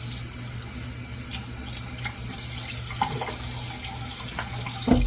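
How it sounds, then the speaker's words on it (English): Tap water runs steadily into a sink to wet a shaving brush before lathering, a close, continuous splashing stream with a small clatter near the end. "Let's get this brush wet and loaded."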